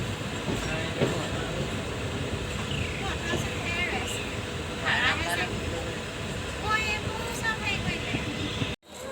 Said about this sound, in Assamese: আমি এতিয়া ট্ৰেইনৰ পৰা নামিলোঁ।